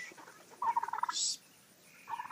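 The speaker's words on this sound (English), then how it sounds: "But here's all the little turkeys." Young Black Spanish turkeys in a homestead pen give a rapid warbling gobble, then a shriller call, and then a second gobble starts. The calls are moderately close over quiet background.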